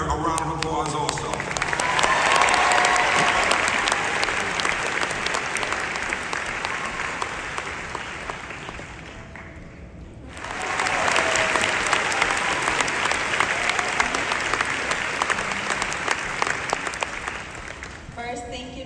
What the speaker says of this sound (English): Brother who's helping her, a round of applause also.